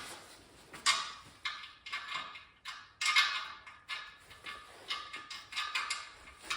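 Irregular metallic clicks and ratcheting taps as a fender part is bolted onto a Volvo BM 430 tractor under restoration, close and moderately quiet, with short pauses between bursts.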